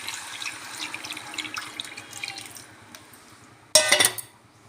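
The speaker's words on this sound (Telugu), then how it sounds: "ఈ చింతపండు నుంచి రసం తీసుకొని ఇప్పుడు ఇందులో పోసేసుకోవాలి." Tamarind juice is poured into a pot of fish curry: a soft, continuous trickle and splash of liquid, then a sudden louder, splashy pour near the end, with no one talking.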